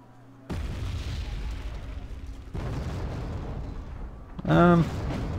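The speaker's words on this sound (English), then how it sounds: "just in time for the M270 to drop a few rounds on him" M270 rocket artillery in a wargame match drops rounds: two heavy booming impacts arrive a couple of seconds apart, each leaving a rumbling tail, followed by a brief rising tonal whine.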